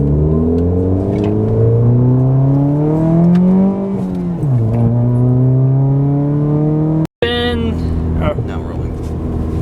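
A tuned Ford Fiesta with a newly installed performance chip drives along, its engine droning steadily before a rising rev and a gear change, with a short cut near the end followed by a muffled voice.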